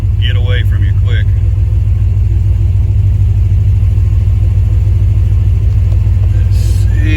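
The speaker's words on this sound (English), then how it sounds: "Idles almost stock sounding. And man, it's got some instant throttle response." A Paxton-supercharged C4 Corvette with a TPI 5.7 engine idles with a steady, loud low rumble, with a brief blip of throttle near the start and a faint voice in the background.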